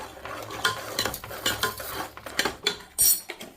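A spoon clinks and scrapes steadily in a pot as ariselu rice flour dough is mixed with sesame seeds and cardamom powder, close and fairly loud, with a few sharper knocks against the vessel and no talking.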